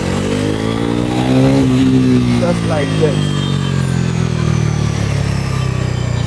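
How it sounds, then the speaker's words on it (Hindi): A Bajaj Pulsar NS400Z motorcycle engine revs with a deep, bassy underbelly exhaust note, rising and falling over several seconds while someone talks over it. "इसकी साउंड जो है वो बेसी है अंडरबेली एग्जॉस्ट का।"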